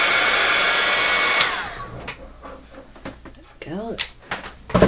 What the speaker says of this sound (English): There we go. Heat gun.